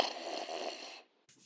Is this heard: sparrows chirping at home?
no